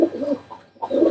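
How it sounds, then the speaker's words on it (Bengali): A Salara pigeon coos close by in two low, rounded phrases separated by a brief pause, with no other sound around it. "এটা একটা সালারা কবুতর"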